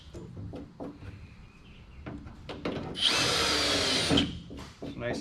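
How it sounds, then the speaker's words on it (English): Power drill with an aluminum bit boring through a Mazda NC Miata hood to fit louvers: a loud steady whine for about a second, with quieter handling and tool noises before and after. "we're going to use that to just drill until we have a hole that these fit through"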